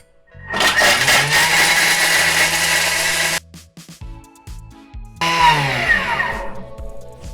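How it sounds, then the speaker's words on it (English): A Thermomix TM6 grates Parmesan cheese at speed 10, giving a loud, harsh whirring roar that runs for about three seconds, stops, then kicks in again with a rising whine after a brief pause filled with small clatters. "this makes absolute mincemeat out of grating Parmesan cheese"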